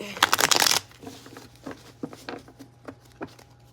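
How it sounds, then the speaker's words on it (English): A tarot deck shuffled by hand: a dense burst of riffling card flaps up front, then scattered soft taps and slides of cards as the shuffle continues, close and fairly quiet. "I'm gonna shuffle it some more"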